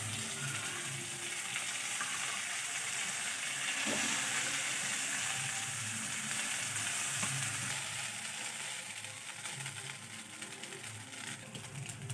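Chowmein noodles stir-fried in a kadai give a continuous, close hissing sizzle. Soft stirring scrapes and slight surges in intensity come and go over the steady frying noise.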